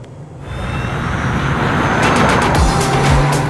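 A Genesis GV60 accelerates hard in boost mode, a loud, steadily rising electric whine and road roar that swells and holds, with rushing wind noise building toward the end.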